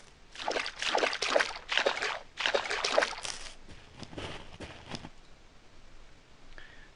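Unity game footsteps on grass and water: a close series of wet splashing, sloshing steps in uneven rhythm, fading into quieter trickles near the end, with no talk.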